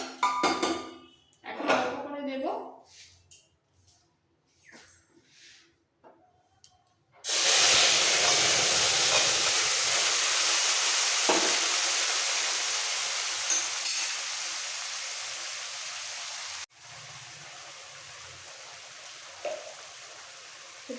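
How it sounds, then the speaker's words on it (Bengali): Boiled chana dal tipped into hot oil with spice tempering sets off a loud, sudden sizzle that hisses steadily and slowly fades, following brief clatter and a voice beforehand. "এর মধ্যে সামান্য একটু সেদ্ধ ডাল দিয়ে নিতে হবে"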